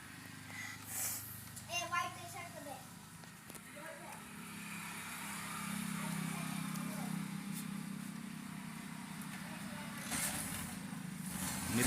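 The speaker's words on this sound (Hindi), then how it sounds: "प्लेन का आवाज़ को हमने थोड़ा कम कर रखा है।" A SpiceJet passenger plane's engines roar and build as it gathers speed on the runway, a steady, turned-down rumble that grows louder over the seconds beneath someone talking throughout.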